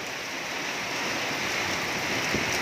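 Steady heavy rain pours down outdoors in Laos, a dense, even hiss that holds constant and fairly loud throughout, with no voices.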